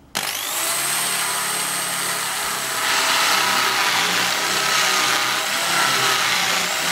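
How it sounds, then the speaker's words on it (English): A power drill whirs steadily and loudly at an allotment garden, holding a continuous high buzzing drone for several seconds with no pauses and no talk over it. "You're going to hear some drilling, folks"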